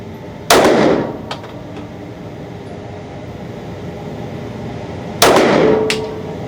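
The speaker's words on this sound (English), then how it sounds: "Next shot is going to be the 115 grain full metal jacket." Two loud, sharp gunshots from a Taurus GX2 handgun firing 115 grain full metal jacket rounds, spaced about four and a half seconds apart, each with a short ringing decay and no talking.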